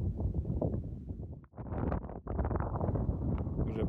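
Steady wind gusts and rumbles against the microphone in an open field at sunset, loud and close, with no voices.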